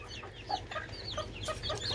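A hen and rooster cluck beside their newly hatched, multicoloured Ispenç chicks in a shared cage, with short, close clucks and high chirps scattered over a steady low background hum.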